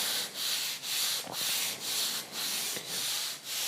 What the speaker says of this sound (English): You feel the blade slowly, you feel the rust coming off, and the sponge moves more smoothly.